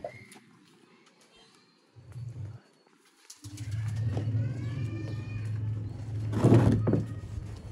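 Low, rolling coos from pigeons close by, a short burst and then a longer steady stretch, with faint bird calls and a brief clatter.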